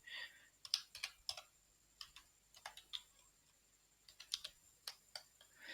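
Someone types an Nmap command on a computer keyboard, a faint, close sequence of irregular key clicks arriving in short bursts with brief pauses between them.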